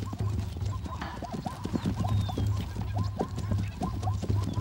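Zebra stallions in the Kalahari desert move with a steady run of hoof clip-clops, close and fairly loud, broken by snorting, whinny-like calls.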